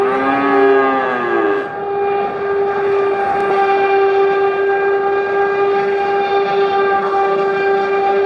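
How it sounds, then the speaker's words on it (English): Milling machines running in a hardwood mill: a loud, sustained high-pitched tonal whine with a falling pitch sweep near the start, then steady mechanical drone filling the space. "the milling machines are working"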